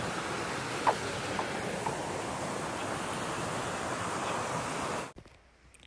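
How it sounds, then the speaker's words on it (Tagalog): Steady rushing water, a broad constant wash like a fountain or surf in a village shopping area, continuing evenly before cutting off abruptly. "may tunog ng tubig. Nakaka-relax."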